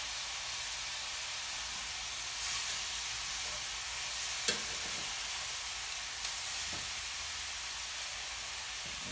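Liver fries in a pan over medium-high heat, giving off a continuous broad sizzle with a few soft pops and scrapes, close and steady with no voices.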